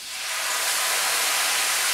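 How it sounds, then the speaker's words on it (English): A loud, steady hissing sizzle, rising quickly and holding constant, as a splash of vermouth hits a hot risotto pan and its alcohol burns off. "That great sizzle you can hear there is the alcohol burning off."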